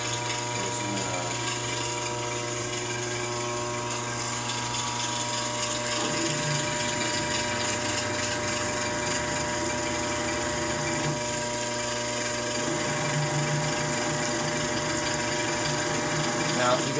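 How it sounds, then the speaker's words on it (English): A 5/8-inch hole is drilled through 3/4-inch titanium at a slow 260 RPM, giving a continuous, close, grinding mechanical drone with a steady tone that stays level and loud throughout. "We're drilling a 5/8 hole. Got it running at 260 RPMs."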